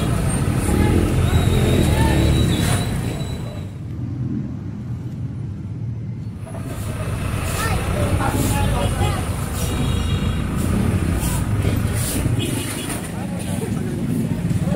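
Steady roadway rumble of passing cars, buses and trucks on a busy street where vendors obstruct the road, continuous and fairly loud with a brief dip midway, with someone talking over it.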